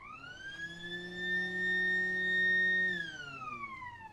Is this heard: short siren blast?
yes